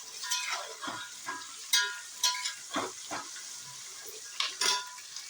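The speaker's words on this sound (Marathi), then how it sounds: "शेंगदाणे भाजले की ह्याच्यात ह्या हिरव्या मिरच्या घालायच्या आहेत, त्या आणि अजून चांगल्या तळून घ्यायच्या आहेत." Green chilies and peanuts fried in oil in a pan, a soft sizzle punctuated by a series of sharp clinks and scrapes of a metal spoon stirring, close and without speech.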